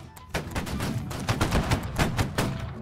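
Rapid volley of musket gunfire in the Napoleonic-era multiplayer game Holdfast: Nations at War: a cluster of close, sharp cracks that overlap in an uneven ragged burst, with loud shots continuing throughout.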